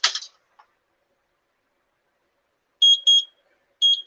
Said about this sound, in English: And that's our timer on the roasted okra.